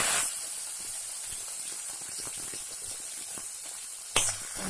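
Chopped tomato hits a hot pan with a sudden loud hiss that settles into a steady, close sizzle, ending with a short clatter near the end.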